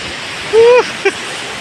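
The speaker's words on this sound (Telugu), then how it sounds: "ఊపికి దూకుతున్న అలలు" Sea waves surge onto a village beach on a foggy morning, a steady broadband wash of surf that runs through the whole stretch, with a brief voiced call rising over it in the middle.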